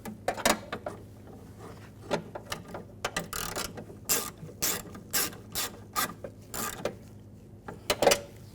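Screws on a BMW 550i front window regulator being tightened with a ratcheting tool: repeated bursts of quick clicking, close up, separated by short pauses.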